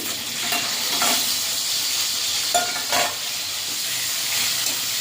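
Chopped onions fry in hot oil with panch phoron in a kadai, a continuous close hiss and sizzle with a few soft spatula scrapes and no talking.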